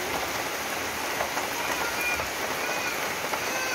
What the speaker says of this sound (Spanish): está llueve y llueve, pues.